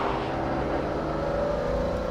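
McLaren hypercar engine blipping on downshifts, a loud, steady, close-miked mechanical drone with dense low rumble and a faint whine running throughout, without talk.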